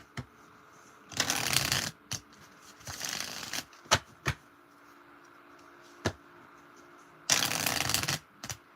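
Playing cards are shuffled in three quick riffled bursts close to the mic, with sharp taps and clacks between them.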